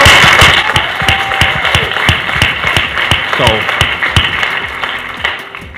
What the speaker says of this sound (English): while I appreciate the applause, I want to flip the applause back to you